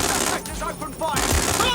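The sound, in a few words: gunfire in the video game Watch Dogs Legion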